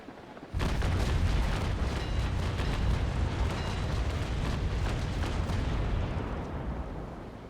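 A ship's cannon broadside in Naval Action erupts suddenly into a loud, rolling roar of many overlapping blasts that sustains for several seconds and slowly fades, with no talking over it.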